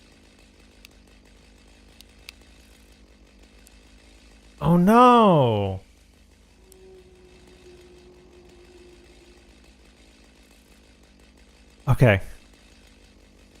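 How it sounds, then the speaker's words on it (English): A chainsaw wielded by the Pioneer in the factory-building game Satisfactory revs up in one loud rising whine lasting about a second, then gives a shorter burst later, with a brief exclamation spoken in between. "Can I make the Pioneer do poses with the chainsaw?"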